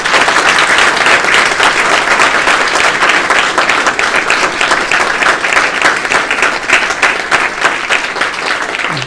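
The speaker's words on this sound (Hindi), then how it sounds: "बच्चियाँ तालियां बजाइएगा अपने लिए" Women students of SD Mahila College Hansi, at a youth festival at GJU, applaud themselves with loud, dense, sustained clapping that stays strong and even for about nine seconds.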